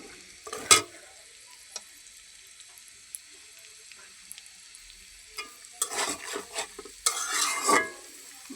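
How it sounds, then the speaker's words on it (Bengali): Egg and Maggi masala are stirred and fried in a pan, with a soft sizzle underneath. A scrape comes early, then it goes mostly quiet, and near the end a run of busy stirring and clinking utensil strokes follows. "নুডলসের সাথে যে ম্যাগি মশলাটা থাকে এই এক প্যাকেট দিয়ে নিছি আর ডিম দিয়ে দিছি"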